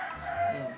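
A chicken in a Filipino household yard gives a short, fairly loud call in a brief burst, with faint low background noise.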